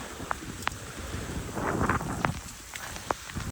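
Strong cyclone wind roars steadily into the microphone with a broad rushing wash, occasional sharp taps of heavy rain or debris cutting through.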